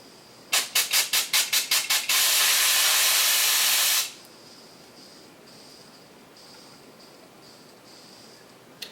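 A pressure cooker sterilizing tattoo equipment vents steam loudly and close: about eight quick sharp hisses in a row, then one sustained roaring hiss lasting a couple of seconds before cutting off to a quiet background.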